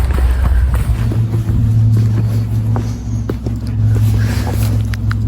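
Strong wind buffets the microphone on a waterfall trail, a steady low rumbling roar that swells and eases throughout without a break.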